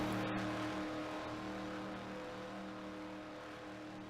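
A Ford race car in the number 6 machine at Talladega during a Dale Earnhardt Jr 200 event, a steady sustained engine drone held at high revs, loud and continuous with no talk over it.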